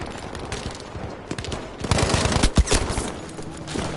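Thompson submachine gun fire in Battlefield 5, rapid automatic bursts of sharp reports with a louder, denser stretch in the middle, surrounded by distant battlefield gunfire and no speech.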